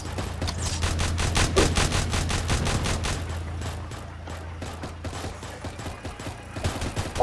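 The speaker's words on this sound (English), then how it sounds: "Oh yes, we've got a little mini gun in here." Rapid, sustained minigun fire from a tower in Roblox Tower Defense Simulator during a Halloween event, a dense stream of shots with a steady low hum running beneath for several seconds before thinning out.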